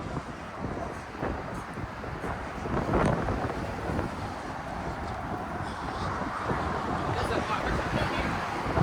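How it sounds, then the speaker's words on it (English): Strong gusty wind buffets the microphone on a downtown street walk in Grande Prairie, Alberta, a continuous rumbling roar that swells around three seconds and stays loud, with a voice speaking over it. "Where did this wind come from?"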